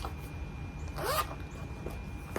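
A single quick zip of a small cosmetic bag's zipper, close and fairly quiet, in an otherwise calm room.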